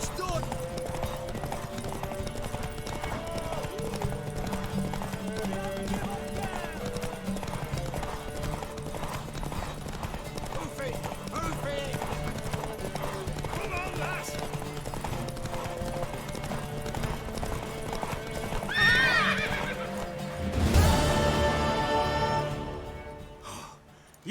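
Horse hooves clip-clopping at a steady pace in The Witcher 3: Wild Hunt, with a neigh rising near the end, mixed under game music and spoken dialogue throughout.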